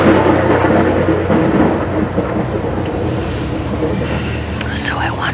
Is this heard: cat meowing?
no